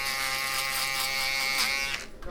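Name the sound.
electric foil shaver used for a skin fade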